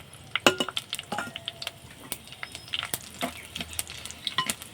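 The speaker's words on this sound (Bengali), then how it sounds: "আলু ভাজার যে তেলটা আছে, ওই তেলের মধ্যে আমি আর কিছুটা সরিষার তেল দিয়ে দিচ্ছি। দেব তেজপাতা, শুকনো লঙ্কা, গোটা গরম মশলা, জিরে।" Whole spices, bay leaves and dried red chillies crackle and pop in hot mustard oil left from frying potatoes, sharp close sizzles and sputters with occasional clinks of a spoon against the pan.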